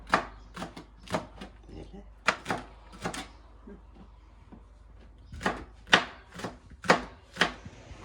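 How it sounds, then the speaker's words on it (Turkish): Crisp, repeated knife chops cutting a pepper on a cutting board, coming in two bursts of quick strokes with a short pause between them, close and fairly loud. "Kızlar bak şimdi de biberimi doğruyorum."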